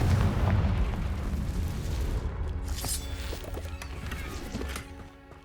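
Confringo blasting spell detonating in Hogwarts Legacy, a loud rumbling boom at the start that rolls on as a dense, low roar with scattered crackles before fading near the end; no speech.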